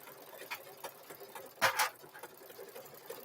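An embroidery machine stitches a zipper bag in the hoop, giving a quiet, regular mechanical ticking close by, with one louder clack partway through.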